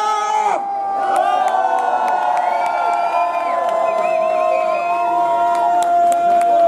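A large audience at a Gamescom show cheers, whoops and screams loudly in a sustained roar, with a brief dip near the start before the crowd noise swells and holds to the end.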